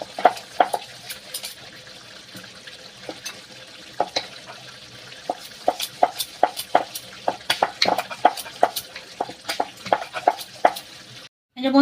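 Spoon stirring egg curry (dim kosha) in a pan, a rhythmic series of scraping and clinking strokes against the metal over a soft sizzle, close and clear.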